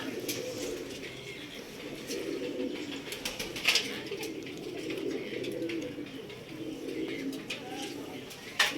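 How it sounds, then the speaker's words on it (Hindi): Pigeons coo repeatedly at a rooftop loft, a soft steady murmur of many birds with a few sharp wing flaps and flutters, heard from fairly close in an open outdoor setting. "हमने कबूतर भी काफ़ी निकाले हुए हैं बाहर, हमारे भी उड़ेंगे जब अपने भी कबूतर उड़ रहे हैं।"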